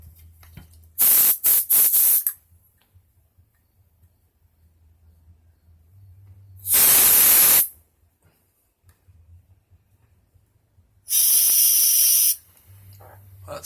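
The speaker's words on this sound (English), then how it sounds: "take my computer duster with the hose on it" Three separate bursts of compressed air from a duster with a hose hiss sharply through the carburetor ports of a Yard Machines lawnmower, each lasting a second or so, with quiet gaps between them.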